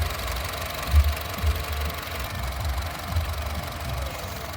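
A 2011 Honda City i-VTEC automatic running on LPG idles with a steady, low rumbling hum and faint mechanical ticking, heard close up without any talk.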